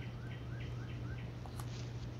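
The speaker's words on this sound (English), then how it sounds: "Oh, little birds tweeting, that's nice." Little birds tweeting: a faint run of about five short, rising chirps, evenly spaced, over a steady low hum and background hiss.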